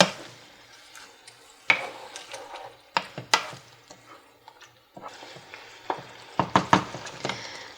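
Cooked beef and tomatoes being stirred together in a hot pan: repeated close scraping strokes and clacks of a utensil over a low sizzle, irregular and without speech.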